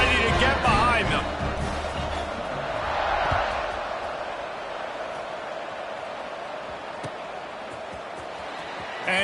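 Football stadium crowd noise at a college game kickoff, a broad steady roar of many voices that swells briefly and holds under a commentator's talk.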